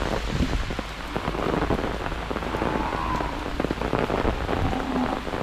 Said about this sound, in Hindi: बारिश आ रही है ना, रुको।